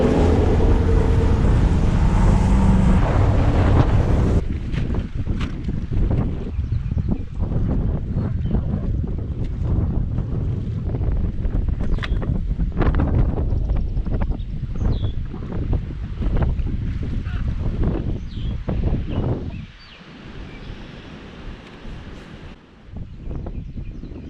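Strong wind buffeting the microphone during a boat ride on Eufaula Lake, a continuous loud roar with engine and water rush beneath, easing somewhat toward the end.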